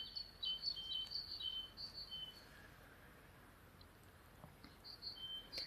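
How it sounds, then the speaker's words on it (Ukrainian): Small birds chirp and twitter softly in the distance near a greenhouse, with scattered high calls over a quiet outdoor background. "Все цвіте, пташечки співають."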